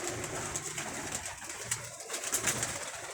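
Pigeons coo softly and repeatedly nearby, their low throaty calls rolling over a faint background hiss.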